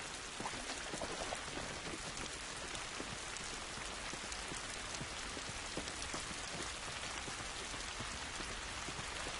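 Steady rain patters densely and evenly throughout in The Last of Us video game, a continuous hiss of drops on surfaces at moderate distance, with no talking.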